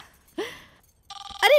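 A telephone rings in a Bhojpuri film scene, with a short burst of electronic ring tones starting partway through, loud and close, preceded by brief vocal sounds.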